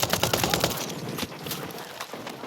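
AK-47 bursts in Ghost Recon Breakpoint: a rapid string of loud, sharp automatic gunshots at close range, a dense rattling volley followed by a few more spaced single cracks.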